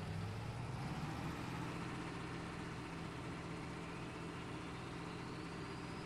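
A tractor engine in the Farming Simulator game, a steady low idling drone that hangs faint and flat in the background, continuous and unchanging, with no talk over it.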